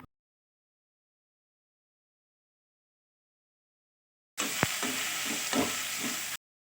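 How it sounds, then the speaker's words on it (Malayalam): Onion, ginger and garlic fry in hot coconut oil, a close hissing sizzle that starts abruptly after silence and runs for about two seconds with a few stirring scrapes. "അപ്പോൾ ഇതിട്ടിട്ട് ഒന്ന് ചൂടായി വന്നതിന് ശേഷം നമുക്ക് സവാള ഇട്ട് കൊടുക്കാം."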